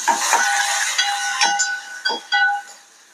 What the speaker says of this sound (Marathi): कांदा आपल्याला थोडा तांबूस कलर येईपर्यंत परतून घ्यायचा.